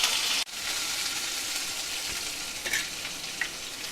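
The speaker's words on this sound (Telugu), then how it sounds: "నూనె పోసుకొని సరిపడా అన్నానికి సరిపడా పోపు గింజలు వేసుకొని పచ్చిమిరపకాయలు, ఉల్లిగడ్డలు, కరివేపాకు" Tempering seeds, green chillies, onions and curry leaves fry in hot oil for tomato capsicum rice, giving a loud, steady sizzle that breaks off briefly, then carries on with faint stirring clicks and no talk.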